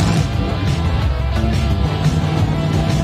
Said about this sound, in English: nowhere do these trucks work out more than in the freestyle exhibitions of car crushing